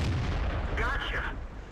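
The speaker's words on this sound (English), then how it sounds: "So just keep shooting, keep shooting, keep shooting." A Panther tank's main gun firing in the game World of Tanks, a single heavy deep boom that rolls into a low rumble, with brief in-game radio or effect tones over it.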